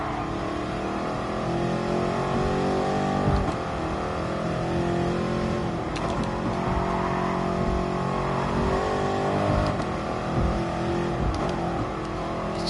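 A mid-engine car revs steadily in a PS4 racing game, its engine note loud and continuous throughout with slight rises and falls and no speech over it.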